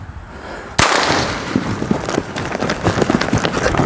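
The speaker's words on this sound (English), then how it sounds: "you can shoot off of him standing still." A single sharp gunshot fired from horseback cracks out loud and close, followed by scattered rustling and thumping movement.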